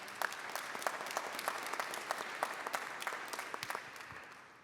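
An audience claps steadily for several seconds, a dense spatter of hand claps that tapers off slightly toward the end.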